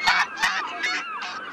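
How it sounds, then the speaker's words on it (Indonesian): Goose honking: four or five harsh, nasal honks in quick succession, close and fairly loud, with no other sounds. "Ternyata ini angsa."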